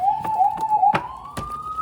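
Police siren wailing in the background, a steady rising tone that sweeps upward, with a few sharp knocks or taps over it.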